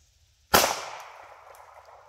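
A single sharp 9mm gunshot fired from a scoped gun, sudden loud crack after a moment of near silence, followed by a decaying outdoor echo and tail, with no voices.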